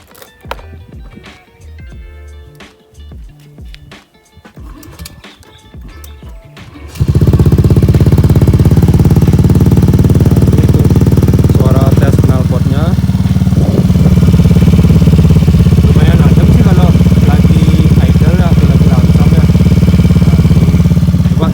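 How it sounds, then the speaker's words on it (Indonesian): A modified Honda Beat FI scooter's aftermarket exhaust starts loud and close at about seven seconds. It holds a steady, heavy idle with a few light throttle blips. The earlier quiet stretch carries faint voice and background sound. "Nah ini untuk sekarang untuk cek suara knalpotnya ya."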